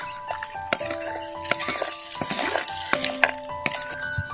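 Curry leaves fry in hot oil for a tuber-skin chutney, a close crackling sizzle broken by clinks and scrapes of a utensil against the pan, with running water in the background.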